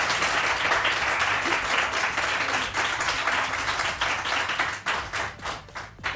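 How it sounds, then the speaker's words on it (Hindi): A television morning-show studio audience applauds a guest, Akhtar, with sustained dense clapping that stays steady, then thins into scattered claps near the end. "अख्तर भाई के लिए बहुत सारी तालियां।"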